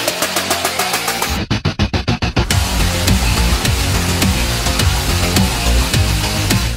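A QJMOTOR SRK 400 two-cylinder motorcycle fires up loud and close, with a brief cranking stutter of rapid pulses before settling into a dense, throbbing idle.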